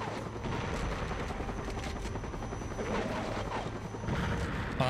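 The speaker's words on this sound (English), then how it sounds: "there's a helicopter." Helicopter in the war video game Conflict: Desert Storm 2, a steady rotor drone sitting under continuous gunfire and explosions of a battle, never heard alone.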